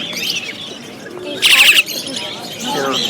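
Shrill, rapid chirps of myna chicks burst out briefly among other birds twittering at an outdoor market, with people talking nearby throughout.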